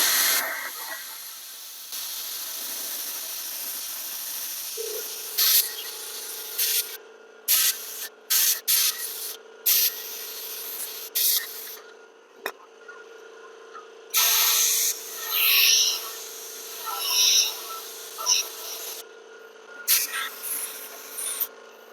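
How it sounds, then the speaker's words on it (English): WD-40 is sprayed through a wand into the fuel tank of a 2000 Honda Valkyrie motorcycle, a close, steady hiss with repeated stop-start bursts. "I use WD-40 with the wand at the same exact time right through the bung, and essentially fog the inside of the tank like this."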